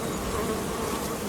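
Honey bees buzz in a dense, steady drone right at an open hive during a beekeeper's inspection, close and continuous with no voices.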